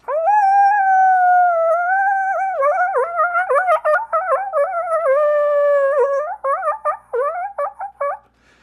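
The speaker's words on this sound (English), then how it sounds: "every major metropolitan area in North America has coyotes in residence. So you'll often hear this chorus howl." Several coyotes howl together, a long rising wail breaking into wavering yips and quavering calls, close and loud with no other sounds.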